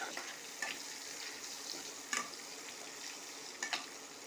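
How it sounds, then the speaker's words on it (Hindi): Chopped onions and bay leaves fry in oil for a spicy suran (elephant foot yam) sabzi, with a soft, fairly quiet sizzle and a few brief stirring scrapes spaced over several seconds, no voices. "इन सभी को अच्छा फ्राई कर दूंगी गोल्डन ब्राउन होने तक"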